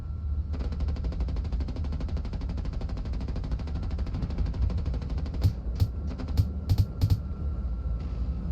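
Rapid machine gun fire in the combat flight game Nuclear Option, a dense continuous rattle with a few sharper, louder bursts near the end, over a steady low engine rumble.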